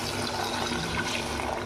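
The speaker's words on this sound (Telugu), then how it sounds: "అలా నూనె పైకి తేలినప్పుడు దాంట్లోకి కొంచెం వాటర్ పోసుకుందాం" Water pours steadily into a pan of spicy egg masala curry made with yogurt, a continuous soft liquid rush and trickle heard close up throughout, with no talking.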